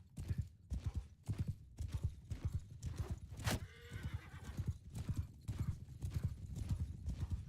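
Galloping cavalry hooves in the Mount and Blade video game, a rapid, loud clip-clop rhythm pounding continuously, with a horse whinnying briefly midway.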